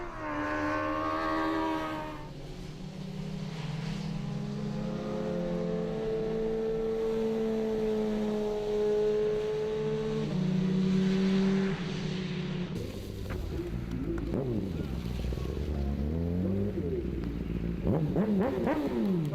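Suzuki racing sidecars roar around the Nogaro circuit, engines rising and falling in pitch as they pass, with a loud close pass and gear changes near the end.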